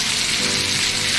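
Pork chop pan-frying in butter with sage, a steady, close, dense sizzle that fills the moment without pause and with no voices over it.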